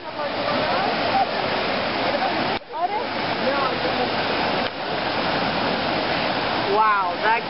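Floodwater in an Atlanta street rushes in a loud, constant roar close by, with people's voices heard faintly beneath the torrent.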